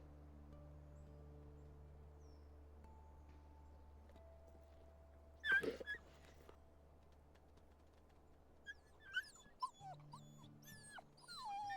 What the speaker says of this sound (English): I love the pups so much.